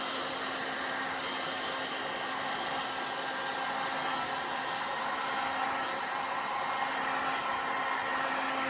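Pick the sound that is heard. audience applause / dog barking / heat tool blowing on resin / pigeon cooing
heat tool blowing on resin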